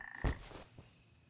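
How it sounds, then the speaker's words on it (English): Angry mushroom frogs in the video game Feral give a loud, close croak, followed by a fainter second croak a moment later, with no talking. "hello, angry mushroom frogs."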